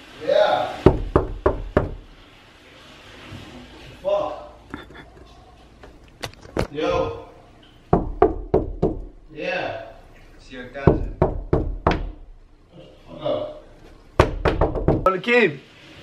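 Sharp repeated knocks on a door arrive in quick bursts, loud and close, separated by stretches of excited talking from people nearby.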